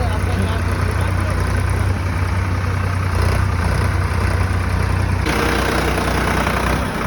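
A Delhi Police tractor works to pull a heavy Toyota Innova free, its engine rumbling loud and steady at close range, with a shift in load partway through.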